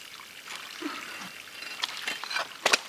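Spring water flows and trickles through a pipe fed by a pump, a faint close gurgle with irregular splashy bursts growing busier toward the end.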